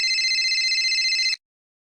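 A telephone rings loud and unanswered in a Kannada comedy cartoon, a steady high electronic trill, then cuts off abruptly into silence.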